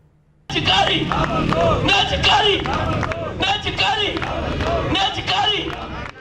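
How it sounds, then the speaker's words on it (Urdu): Protesting union workers chant slogans against the government and LESCO management outside LESCO headquarters in Lahore, loud rhythmic shouting from a crowd that bursts in suddenly and continues with repeated chant phrases and some clapping. "مظاہرین کی حکومت اور لیسکو انتظامیہ کے خلاف شدید نعرے بازی کی گئی"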